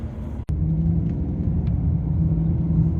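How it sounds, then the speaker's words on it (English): A BMW 740i V8 pulls away strongly, a steady low engine rumble and road drone close inside the cabin, holding even after a brief dropout at the start, with no talk. "the car pulls away really well, really strongly as well"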